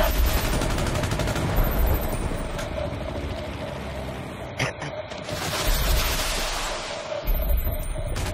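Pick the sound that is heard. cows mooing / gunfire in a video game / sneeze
gunfire in a video game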